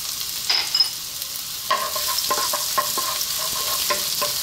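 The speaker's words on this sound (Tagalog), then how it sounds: "naglagay na po ako ng cooking oil sa aking wok. Siyempre, ang first step natin, magigisa na tayo." Garlic sautéing in cooking oil in a wok sizzles steadily and close, with scraping stir strokes and light clinks of a utensil against the pan, and no voices.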